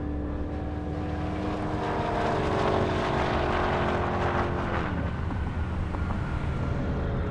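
Audi RS3 and Dodge Challenger racing side by side down an airstrip at an Indy Airstrip Attack event: a loud, steady engine roar held throughout, its whining pitch sliding lower partway through as the cars pass.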